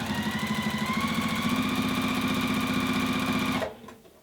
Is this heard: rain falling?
no